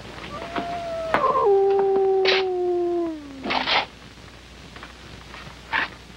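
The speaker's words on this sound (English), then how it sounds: "a howling dog meant somebody was going to die" A dog howls nearby, one long wavering, falling wail that breaks upward and then slides down over about three seconds, followed by a few softer yips and whimpers against a quiet background.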